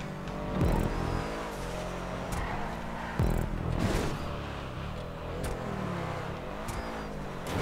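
A 4x4 engine in an open-world driving game labors and revs, rising and falling in repeated surges with sharp thumps and clatters between them, loud and close with no talk.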